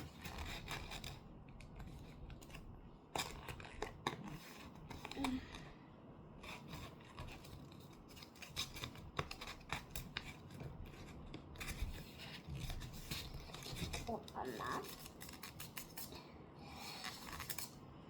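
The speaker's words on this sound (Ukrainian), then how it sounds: "І ножички беремо і тут ми погладжуємо." Small scissors snipping and working paper during a glue-and-fold paper craft, giving repeated close, crisp cuts and rubbing sounds in short bursts, with no talking.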